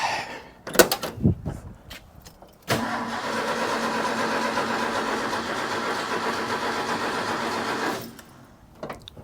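An old Ford bullnose truck's 300 engine, freshly converted from a one-barrel to a two-barrel carburetor and still cold on choke, cranks steadily for about five seconds on a weakening battery without catching, then stops, with faint clicks before and after.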